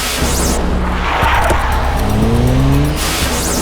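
A car squeals its tires and roars away in a TV crime-drama scene, with a sustained skidding screech over loud engine noise, close and intense throughout.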